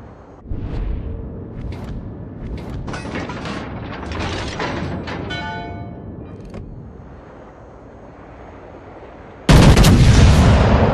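Warship artillery in a naval battle game, with mechanical clanks and heavy gunfire rumbling through, ending in a sudden loud blast of a salvo.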